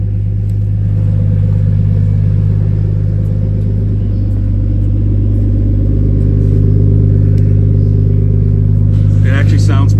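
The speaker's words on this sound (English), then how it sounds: "It's pretty deep. Nice and deep exhaust sound." A 1998 Nissan Skyline R34 25GT-T with an aftermarket exhaust idling close by, a loud, deep, steady rumble throughout with a brief higher noise near the end.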